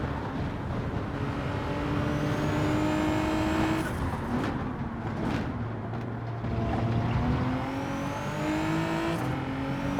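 Genesis GR4 race car engine in Gran Turismo 7, a steady high-revving drone with rising gear-shift sweeps and brief dips as it changes gears, continuous and close throughout.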